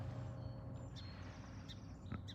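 A sparrow sings outdoors near a tall ship on the coast, giving a few faint, thin chirps and short high trills spaced apart over a steady background of wind and low rumble.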